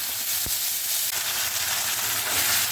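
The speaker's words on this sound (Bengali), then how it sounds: "একটু ভেজে নেব পেঁয়াজ টমেটো" Chopped onion and tomato fry with cumin, bay leaf and garam masala in a pan, sizzling loudly and continuously, with a couple of soft thuds from stirring near the start.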